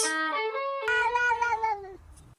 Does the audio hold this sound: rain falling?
no